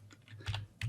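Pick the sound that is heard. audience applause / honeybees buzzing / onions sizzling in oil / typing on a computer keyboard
typing on a computer keyboard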